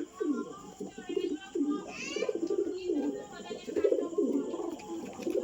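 Breeding pairs of pigeons coo in a loft with repeated low, throaty, rolling calls, close and fairly loud, overlapping one another continuously.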